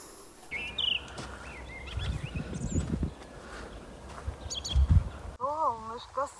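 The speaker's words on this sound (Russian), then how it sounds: "Птички поют." Birds chirp and call intermittently outdoors near a horse stable, short bright tweets scattered through the clip, with someone talking and footsteps or hoof sounds underneath.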